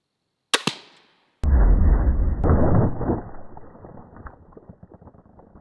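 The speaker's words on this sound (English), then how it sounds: "I'm gonna take one more shot with the small game head" An arrow tipped with a small game head is shot and strikes a target: a sharp release snap, then a heavy thud that rumbles and slowly fades away, with no talking.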